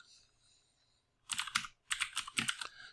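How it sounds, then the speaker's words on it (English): Close, quiet typing on a computer keyboard in caps lock: two quick clusters of crisp key clicks separated by a brief pause, with no talking. "Let me switch over to caps lock and type in"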